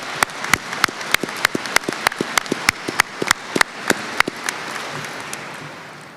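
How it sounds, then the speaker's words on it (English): A ceremonial round of applause at a Vermont National Guard change of command, given for the event organizers: crisp, evenly spaced hand claps over a light crowd wash that grows steadier and softer toward the end. "let's have a round of applause for those folks"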